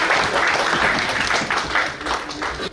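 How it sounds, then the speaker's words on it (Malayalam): An audience claps warmly to welcome past leaders of the Kerala Samajam of Greater New York at a community Vishu–Easter gathering. The steady, dense applause fills the room at full strength, with some faint voices mixed in. "തീർച്ചയായും നല്ലൊരു കയ്യടിയോടുകൂടി അവരെ നമുക്ക് സ്വാഗതം ചെയ്യാം"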